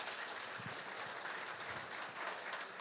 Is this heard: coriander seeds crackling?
no